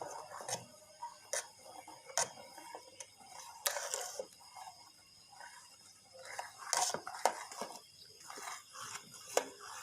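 A spoon scrapes and taps steadily against a pot while stirring a milk drink thickened with cornflour, producing close, irregular clinks and scrapes with no talking.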